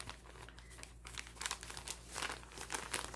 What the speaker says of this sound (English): can you hear the crinkle?